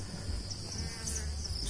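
Honey bee colony buzzing inside a bee trap at night, a faint, steady insect hum with no voices.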